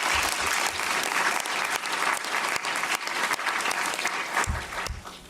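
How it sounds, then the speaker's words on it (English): An economics conference audience applauds continuously at a session's close, broad, even clapping that thins out toward the end. "maybe a round of applause for them"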